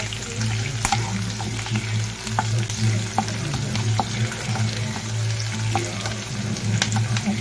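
Green chili frying in oil with golden-brown garlic for paneer cutlets, a loud dense crackle and sizzle with a low steady hum beneath and occasional spoon clicks.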